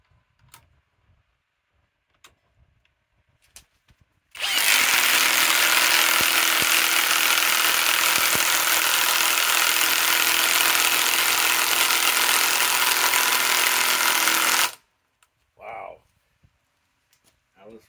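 A Harbor Freight Hercules compact impact wrench drives 4 inch timber locks in one sustained, loud, hammering burst of about ten seconds, with brief talk and handling noises before and after.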